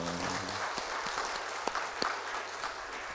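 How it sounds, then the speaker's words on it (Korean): Congregation clapping in a church during a worship service, a steady dense wash of applause throughout with a few louder claps standing out, while some low voices murmur underneath. "박수로 우리의 마음을 표현하겠습니다"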